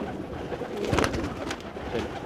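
Maina Chap fancy pigeons coo close by in a continuous, throaty murmur. A slightly louder rolling call stands out near the middle, and no voices are heard.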